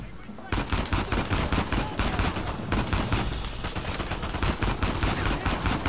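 Rapid automatic gunfire in the video game Uncharted 4, loud dense bursts of shots firing almost continuously after a brief quiet start, with no speech over it.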